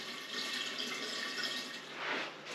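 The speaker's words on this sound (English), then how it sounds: "the colander does help to break the fall of the water." Water is poured through a colander into a new biOrb aquarium, a steady soft splashing trickle with a slight swell near the end, no voices.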